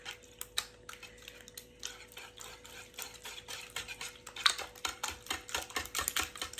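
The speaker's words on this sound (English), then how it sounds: "Now we're going to whisk all this together." Breakfast casserole ingredients are whisked in a bowl, giving rapid, close metallic clicking and tapping strokes that continue steadily without speech.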